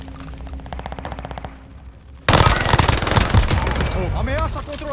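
Automatic gunfire in the video game Warzone: a softer rapid burst first, then loud, dense sustained firing with sharp crackling reports and overlapping shots, close and heavy, with faint game radio chatter mixed in.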